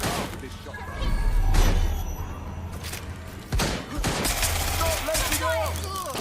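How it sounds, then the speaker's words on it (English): Bursts of gunfire and loud impacts from the Watch Dogs Legion video game, including shotgun blasts, ring out in a busy firefight, with shots clustered in volleys and a heavy crash partway through. "Shots fired!"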